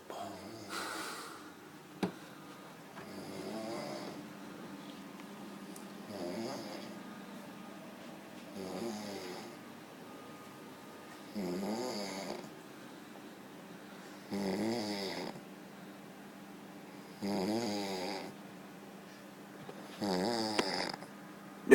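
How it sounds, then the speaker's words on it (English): A man snoring loudly in slow, regular rasping breaths, about every three seconds, close and clear against a quiet room with a low background hum. "We're filming him snoring."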